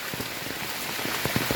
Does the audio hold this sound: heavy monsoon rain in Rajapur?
yes